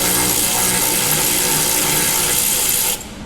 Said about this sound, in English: if you tighten the actual link while you hold the nut after you break it free, it just speeds up the whole process like this